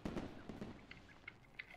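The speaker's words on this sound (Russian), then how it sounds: "О, этот фейерверки пускает." Fireworks launch in the video game A Hat in Time, a quick run of soft crackling pops and small bursts, faint and close together.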